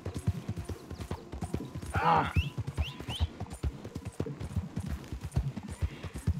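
Horse hooves clip-clop in Red Dead Redemption 2 as a steady rhythmic trot, with a brief whinny-like burst and a short spoken exclamation over the galloping.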